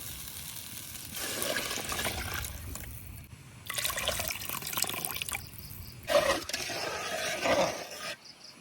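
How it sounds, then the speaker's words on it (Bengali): Water is poured into a cooking pot for broken rice in a home kitchen, in a few splashing, gushing bursts separated by short pauses, fairly close. "পানি দেওয়া হয়ে গেছে"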